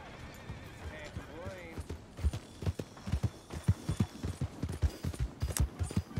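Horse hooves clip-clop in a steady walking rhythm in Red Dead Redemption 2, moderately loud and close, with a person talking over them.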